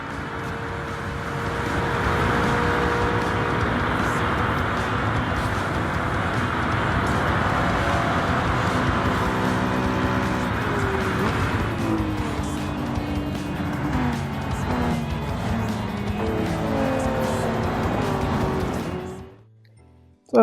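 A 1992 Honda NSX Type R races down a straightaway in a driving video game, its engine roaring loud and steady as it climbs through gear changes before cutting off abruptly near the end.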